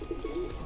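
Pigeon cooing in a loft, a soft low throaty coo repeating in short pulses, close and fairly quiet with no talking.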